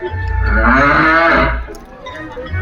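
A single long, loud cow moo at a school annual day show, deep and resonant, swelling then fading over a couple of seconds with no talking.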